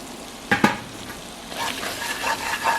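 Boiled matumbo is stirred into a pan of tomatoes cooked down, with a spoon knock or two, then a soft sizzling, scraping mix that keeps going close by.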